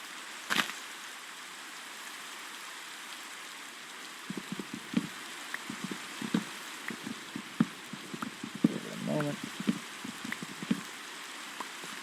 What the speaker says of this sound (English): Okay, we're going to brave the rain one more time.